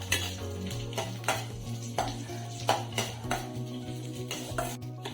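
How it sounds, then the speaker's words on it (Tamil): A spoon stirs a semolina dessert mixture with raisins in a pan, with rhythmic scraping strokes against the metal over a steady low hum, close and fairly quiet. "இப்போ இதை எல்லாத்தையும் சேர்த்து நம்ம நல்லா கிண்டணும்"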